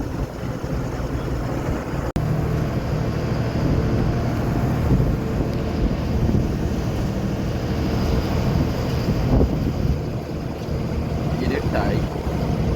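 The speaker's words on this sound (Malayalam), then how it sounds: "ഇവിടെ നല്ല കാറ്റുള്ള സ്ഥലമാണ്." Strong wind gusts across open country at a wind farm, a steady loud rushing roar buffeting the microphone throughout, with a brief sharp knock near the start.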